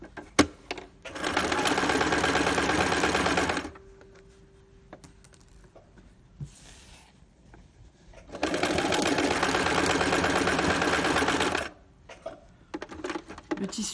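A sewing machine stitches terry cloth for a hot water bottle, running in two steady whirring bursts of about three seconds each. Between them a pause is filled with quiet handling clicks and fabric rustle, all close up, with no talking.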